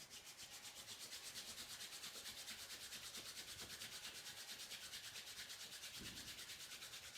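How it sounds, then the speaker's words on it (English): Palms rubbing together briskly during a yoga session, a soft continuous rhythmic swishing that pulses evenly back and forth for several seconds, faint and close, with no talking. "Rub your palms."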